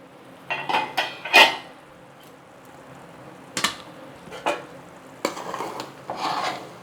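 Prawn biryani being stirred lightly in a pot, with several scattered scraping and clinking strokes of a spoon against the pot, each brief, near and moderately loud, separated by short pauses.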